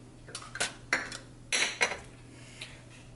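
A metal cooking pot for coyote stew is handled, giving a few sharp clanks and scrapes in quick succession, close and fairly loud in a quiet kitchen.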